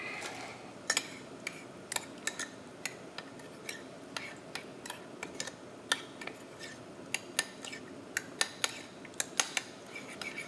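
Spoon clinking against a bowl while shrimp cocktail sauce is mixed with lemon juice, a rapid irregular series of sharp small taps and scrapes, close and fairly quiet, with no talking.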